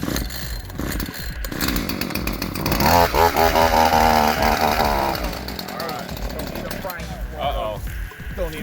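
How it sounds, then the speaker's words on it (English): A chainsaw runs loud and close, its engine revving and snarling as it cuts, with rough bursts and pitch shifts throughout. "Chainsaw on."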